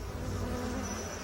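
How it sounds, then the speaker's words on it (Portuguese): Dense insect buzzing, like bees and wasps in flight, fills the short stretch as a steady, close hum that stays even in loudness with no voices. "Abelhas, vespas e marimbondos assustam todos nós."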